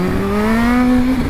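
A Kawasaki H2 motorcycle engine pulls hard while being ridden on semi-dry roads, its loud, steady note rising smoothly in pitch as the revs climb, close and continuous throughout.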